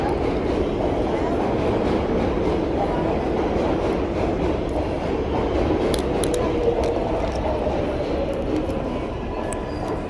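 A New York City subway train rumbles loudly and steadily into a station, a continuous low roar with rail clatter and faint brake squeal toward the end, with no talk over it.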